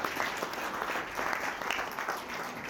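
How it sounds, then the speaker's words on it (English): Wedding guests give a round of applause during the speeches, dense continuous clapping filling the room at a steady loud level for a few seconds. "please give a massive round of applause for the fun by David"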